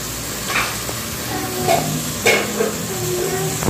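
Ginger garlic paste sautéing in a pan for vegetable biryani, a steady close sizzle and frying hiss with occasional scraping stirs of the spoon against the pan.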